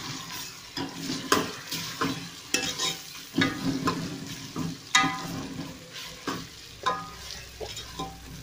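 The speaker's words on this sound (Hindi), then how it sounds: "एक मिनट के लिए हम अदरक लहसुन के पेस्ट को इसमें भूनेंगे प्याज में" Ginger garlic paste fries with onions in a cooking pot, a steady sizzle broken by repeated scraping and stirring strokes against the metal, close and fairly loud throughout.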